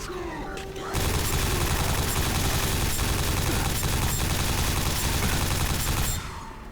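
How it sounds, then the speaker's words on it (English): Upgraded nail gun from the video game Quake 4 firing in a dense, rapid stream, starting after a short lull and hammering on loudly for about five seconds before cutting off, with combat noise mixed in. "Finally get a chance to use our upgraded nail gun"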